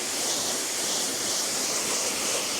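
A dense, steady hiss of water sprays over a car during a maintenance wash, close and constant with no pauses from start to finish.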